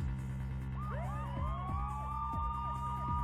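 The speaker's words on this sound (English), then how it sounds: "Mr. Wright, there are police cars outside!" Several police car sirens wail outside a building in a video game, their overlapping rising and falling tones repeating steadily at moderate volume with no talking.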